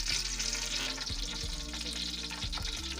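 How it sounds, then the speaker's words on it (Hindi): Chopped onions fry in hot ghee in a pot, a steady close sizzle and crackle with faint stirring underneath, and nobody talks. "हम इसमें प्याज डाल के इसको फ्राई कर लेंगे अच्छे से"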